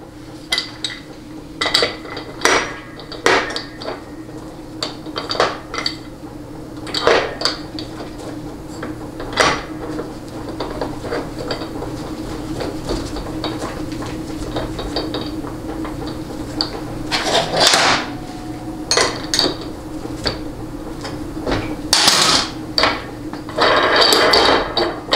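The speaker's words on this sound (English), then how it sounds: "now I'm gonna reinstall the two drums for the final time." Metal drums being reinstalled into a GM 200-4R automatic transmission during a rebuild, giving a series of close, sharp clinks, knocks and scrapes of metal parts at irregular intervals, with no talking.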